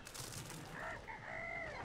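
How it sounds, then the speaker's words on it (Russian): A rooster crows in the video game Trine 2, slightly distorted, over a dense background of noise. "И петух этот."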